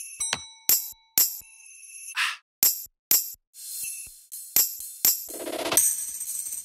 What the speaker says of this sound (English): And I added some percussion one-shots as well,